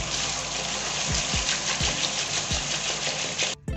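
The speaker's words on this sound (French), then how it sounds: "on va venir rincer tout ça à l'eau bien froide pour enlever les pellicules" Cold water pours steadily over a Barbie doll's hair as it is rinsed, a loud continuous gushing stream with a few dull low knocks underneath, stopping abruptly just before the end.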